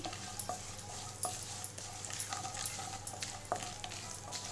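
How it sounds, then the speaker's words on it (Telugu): Roasted peanuts and dried curry leaves fry in a pan while a spoon stirs them, giving a constant nearby sizzle broken by regular scraping and clinking strokes against the metal. "వేయించిన పల్లీలు ఇవి వేసి చక్కగా వేయించుకొని"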